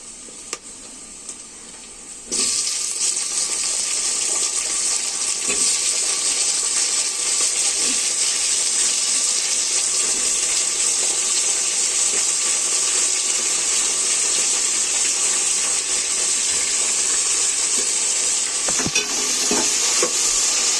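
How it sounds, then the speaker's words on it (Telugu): Tomatoes and onions fry in a pan for a fish pulusu, a steady loud sizzle and hiss starting after a brief quiet moment and holding evenly, with occasional faint stirring clicks and no talking. "టమాటా వేయించుకోవాలి. కొంచెం సాల్ట్ వేసుకోవాలి. టమాటాలు బాగా వేగుతున్నాయి."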